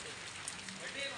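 Rain patters steadily on surfaces outdoors in a brief, faint, even hiss of drops.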